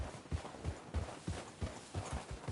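Hooves clip-clop in a steady walking rhythm on hard ground, several horses at moderate distance, quiet with faint background noise.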